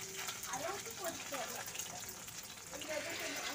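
Dried lotte fish (shutki) frying in a pan, a faint, steady sizzle and crackle running under a voice talking throughout.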